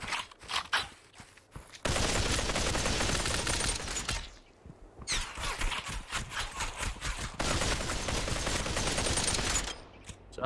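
Rapid automatic gunfire from a weapon in the VR shooter Population: ONE, loud bursts sustained for several seconds with short gaps between volleys.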